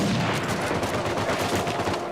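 Dense, rapid automatic gunfire from an Uncharted 4: A Thief's End firefight rattles loudly and nonstop for the whole stretch, with overlapping bursts and no pauses.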